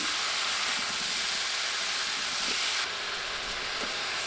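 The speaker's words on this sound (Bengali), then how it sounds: "নেড়ে নেড়ে আমি ভেজে নিচ্ছি" Cauliflower florets frying with a little salt in a pan while being stirred, a steady close hiss of sizzling oil throughout with faint scrapes.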